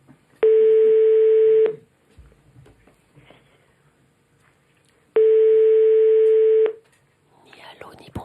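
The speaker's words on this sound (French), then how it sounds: "On appelle quelqu'un d'autre." Two long steady electronic telephone tones, each lasting over a second and separated by a pause, ring out loud and clear during a French radio call-in game show, with faint background murmur between them.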